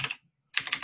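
Quick bursts of typing on a computer keyboard: a short run of clicks, a brief pause, then a denser flurry of keystrokes, close and clear with no voices.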